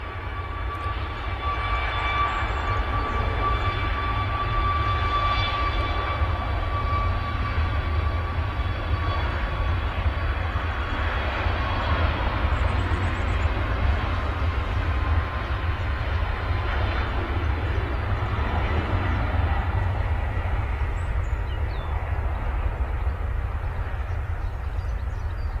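Boeing 737 Max airliner taking off at Manchester Airport, a broad, steady engine roar with rumbling low end and faint whining tones, sustained at constant loudness for over twenty seconds without voices.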